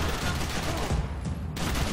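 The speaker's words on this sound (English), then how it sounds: "I wonder where they got these AK-47s." AK-47 gunfire from the Max Payne 3 video game, a rapid burst of shots rattling over about two seconds at moderate level.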